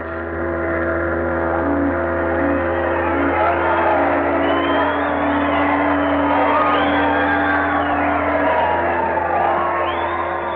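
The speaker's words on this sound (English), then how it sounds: "There was shouting and rejoicing." A large crowd shouts, whoops and cheers in celebration at the end of a war as people board a ship for home, a dense, continuous roar of voices at steady loudness throughout.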